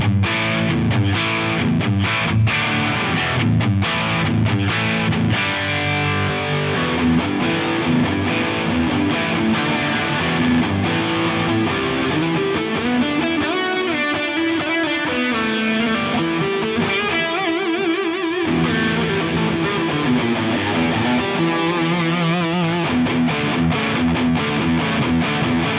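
Electric guitar played through a Darkglass Anagram effects unit, giving a thick, greasy distorted lead tone with sustained notes and quick runs, loud and continuous with no talking.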